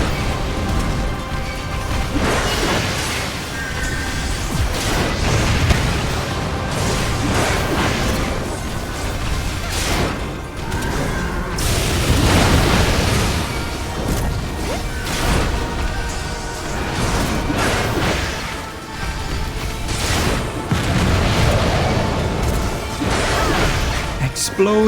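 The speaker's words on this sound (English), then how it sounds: "Explosion!" Explosions and spell blasts from a battle in Final Fantasy XIV, a steady barrage of booming bursts and whooshes layered over game music, loud and continuous throughout.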